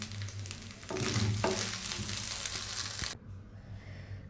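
Chicken fried rice sizzling in a pan and stirred, giving a dense crackling hiss with scraping strokes that stops abruptly near the end and leaves only a low hum.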